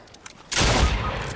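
Gunfire in the video game Fortnite erupts as a sudden dense burst of shots after a quiet moment, then trails off in a rough, noisy tail.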